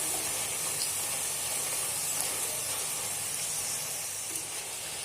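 Potato French fries frying in a pan of oil, a steady, even hiss and sizzle that runs unbroken throughout with no voices.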